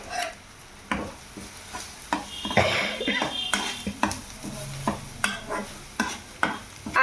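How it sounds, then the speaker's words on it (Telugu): Coconut, carrot and green chilli paste frying in a kadai, soft sizzle with repeated scraping stirs of a spoon against the pan, close and steady. "కొబ్బరి, క్యారెట్, పచ్చిమిరపకాయలు 3 మిక్సీ పట్టుకున్న కన్సిస్టెన్సీ బాండిలో వేసుకోవాలి."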